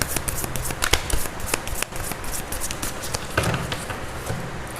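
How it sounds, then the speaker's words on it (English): Moonology oracle cards are shuffled by hand up close, a rapid series of crisp papery flicks and riffling taps in uneven bursts, with no talk. "I'm using these Moonology Oracle to see what advices do we have for you."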